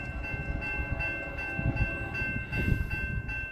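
A freight train of empty cars rolls past with low, rhythmic clunks and rattles, a steady mechanical rumble at moderate distance.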